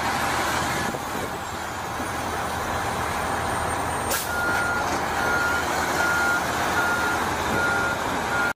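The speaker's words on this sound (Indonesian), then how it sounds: "lihat ada truk derek di sini." White tow truck at a heavy equipment site sounding steady, evenly spaced reversing beeps over a rumbling engine, with a brief burst of air brake hiss partway through.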